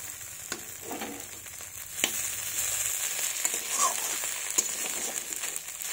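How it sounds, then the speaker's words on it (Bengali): Fresh home-grown beans with spices frying gently over low heat in a pan, a soft steady sizzle with occasional sharp clicks of a utensil against the pan, close by. "তো এটাকে আমি আরও কিছুক্ষণ একটু ভেজে নেব। হালকা আছে আস্তে আস্তে করে ভাজবো, যাতে মশলাটা পুড়ে না যায়।"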